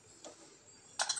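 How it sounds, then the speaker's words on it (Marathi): Mustard seeds crackling in hot oil in a pot while tempering kadhi, heard as a faint isolated pop followed by a quick cluster of louder sharp crackles near the end. "मोहरी चांगली तडतडल्यानंतर त्यामध्ये अर्धा चमचा जिरे टाकूयात"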